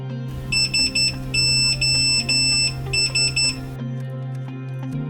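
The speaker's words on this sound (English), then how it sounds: "The flat cube will SOS beep, then alert your phone." A uWatch flat cube tag sounds its SOS beep alarm: a shrill electronic tone in short bursts, first two quick pips, then a longer steady stretch, then a few more pips, over a low steady hum.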